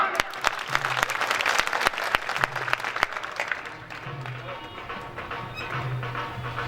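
An audience at a Gurjar community program in Ujjain breaks into applause of welcome, a broad wash of clapping with sharp individual claps, fading somewhat in the second half as faint voices and a low hum continue.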